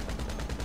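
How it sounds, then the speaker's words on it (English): Minigun fire in an online multiplayer shooter game: a continuous rapid stream of gunshots, loud and dense, with a pulsing rhythm throughout the short burst. "He pulled out a minigun."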